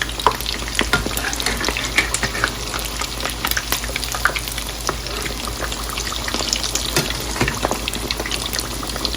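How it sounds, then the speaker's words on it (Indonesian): Egg martabak wrapped in risoles skin fries in hot oil with a steady, close sizzle full of fine crackles and pops, running alone without any talk. "Kemudian kita goreng hingga berwarna kecoklatan."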